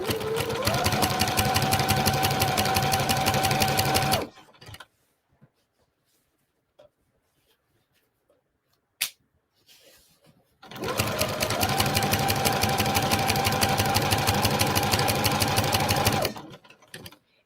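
Sewing machine stitching a standard pillowcase, a steady close whirring run of about four seconds, a quiet pause with small handling clicks, then a second long continuous stitching burst.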